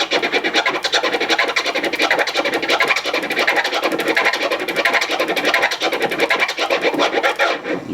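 Turntable scratching in the Kermit scratch style, worked from an "ahh" and "fresh" vocal sample with a snare, plays as a loud, continuous run of fast, rubbery back-and-forth strokes for the whole stretch.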